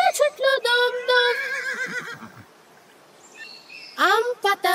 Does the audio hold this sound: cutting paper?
no